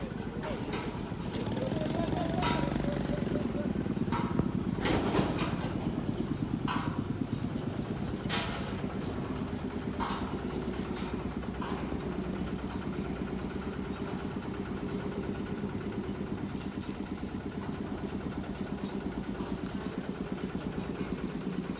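A small farm tractor engine chugs steadily while pulling a house being moved, a moderate, even mechanical drone heard at some distance, with people talking over it and scattered clanks.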